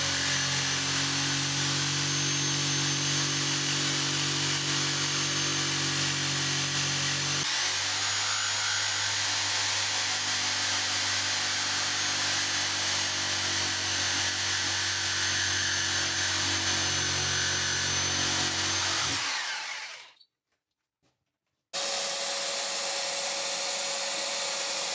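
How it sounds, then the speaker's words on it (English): An old jigsaw with upward-facing fine-cut blade teeth rips through a laminate countertop, a loud steady buzzing whine that shifts pitch partway, then cuts out briefly before starting up again. "this old jigsaw, and I got blades that, unfortunately the teeth are aimed up, which is not great for laminate"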